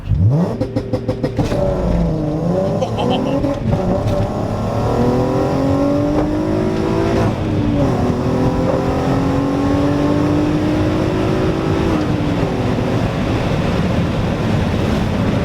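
A heavily modified VW Golf R32 launches hard on launch control: a loud engine roar with sharp gear-change breaks, the revs climbing in long rising sweeps and dropping at each shift, close and continuous with no talk.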